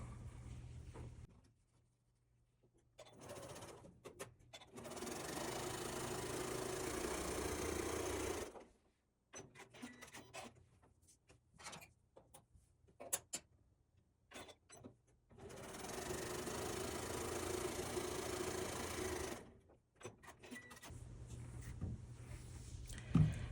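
A sewing machine stitches quarter-inch seams on fabric for a pincushion, running in three steady bursts of rapid whirring separated by quiet pauses.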